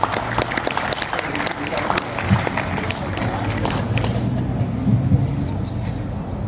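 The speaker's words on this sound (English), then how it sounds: "So big round of applause for Glen." Scattered audience clapping at an outdoor community unity day in Gympie, fairly loud at first and thinning out, with murmured voices and open-air background noise underneath.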